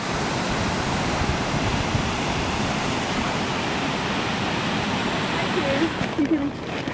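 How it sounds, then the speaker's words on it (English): Steady, dense roar of the Upper Falls waterfall on the Yellowstone River in Yellowstone Canyon, a constant broadband rush that never lets up; a few faint voices surface near the end. "The upper falls on the Yellowstone River."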